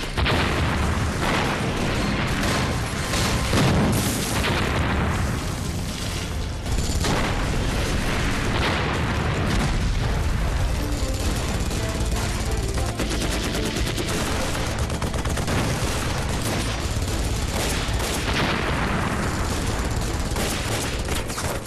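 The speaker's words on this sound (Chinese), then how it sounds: "炮台山传来激烈枪声" Intense film battle scene with dense, continuous gunfire and booming explosions, rapid bursts overlapping into a loud, relentless barrage with no letup.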